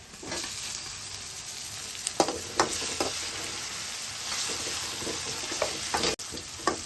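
Onion and tomato pieces fry in a pan while pasta is being made, a steady close sizzle broken by scattered scrapes and clinks of a spoon stirring, with no voices.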